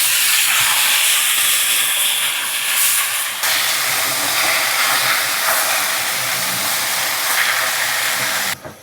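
Spinach tipped into a pan of fried river taki fish sizzles loudly and steadily, a dense hiss that holds for several seconds before cutting off sharply at the end.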